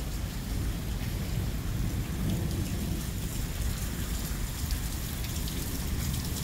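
Steady, dense rainfall pattering on surfaces during a storm in Rome, New York, a constant wash of sound with a low rumble underneath and no voices.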